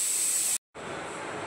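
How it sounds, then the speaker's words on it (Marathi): A pressure cooker cooking rice gives off a loud, steady hiss of steam that cuts out for a split second, then continues just as strongly. "तिकडे कुकर लावला आहे भाताचा"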